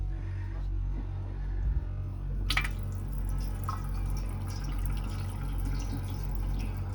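A tap runs aboard a 1989 Tiara 3600 boat, a soft steady hiss of flowing water with a few faint drips and clicks, heard alone in a quiet cabin.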